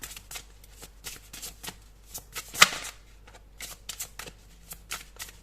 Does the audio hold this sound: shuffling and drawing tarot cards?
yes